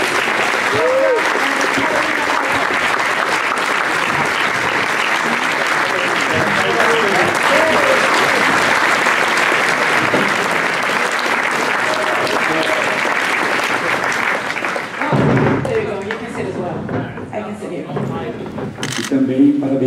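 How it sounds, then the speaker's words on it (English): An audience claps loudly and continuously at the opening ceremony of the No Limit Borås festival. The dense applause holds steady before thinning out near the end, with voices talking over it. "Peter, give Peter an applause. Round of applause."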